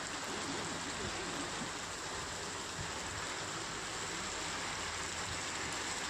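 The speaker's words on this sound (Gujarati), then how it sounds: "ભારે વરસાદથી બજારોમાં નદીની જેમ પાણી વહેતા થયા છે" Heavy rainwater runs like a river through market streets in Bhuj after a downpour, a steady, dense rushing wash that holds at an even level throughout with no voices.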